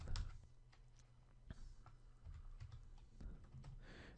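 Typing on a computer keyboard: quiet, irregular clicking keystrokes that come in short bursts, with one sharper tap partway through and a low hum underneath.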